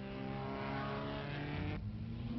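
1957 Formula 1 cars, a Maserati and a Formula 2 Cooper, racing at the German Grand Prix: a steady loud engine drone with rising pitch, then a sudden drop as one car passes, heard from trackside, no talk.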